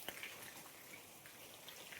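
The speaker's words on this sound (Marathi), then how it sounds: "इथं जोरदार पाऊस चालू" Heavy rain falls steadily as a dense, even hiss of drops spattering on surfaces, with no voices over it.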